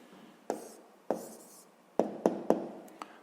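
A pen or pencil writes an answer by hand on paper, making a quiet series of sharp taps and short scratchy strokes, about half a dozen in irregular rhythm, close and without talking.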